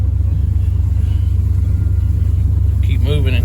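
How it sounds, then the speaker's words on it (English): Pickup truck without mud tires crawling through an overgrown fence row, its engine a steady low rumble throughout, with a brief burst of talk near the end. "I shouldn't be driving this truck through here anyways, but we'll keep it moving."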